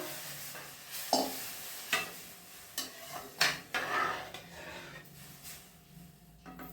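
A spoon scrapes and stirs rice flakes halwa with sugar in a pan over low heat, with a soft sizzle underneath. Distinct scraping strokes come about once a second, fairly quiet and close, with no talking.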